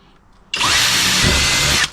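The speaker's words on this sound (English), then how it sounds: "So we're going to drill like right here." A power drill bores a hole into an enclosed trailer being fitted out as a pressure washing rig, a loud, steady whine that starts abruptly after a brief quiet moment and runs for over a second before cutting off.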